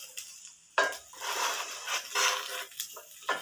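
An egg frying in an AMC 24cm Gourmet Dome Fry Pan, with a quiet crackling sizzle under repeated scraping and tapping of a utensil against the pan, close and intermittent.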